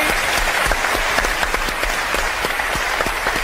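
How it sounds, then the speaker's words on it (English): Studio audience applause during a live paranormal television show broadcast from the Churchill War Rooms, a dense sustained burst of many hands clapping at close range, steady from start to finish. "Give her a round of applause."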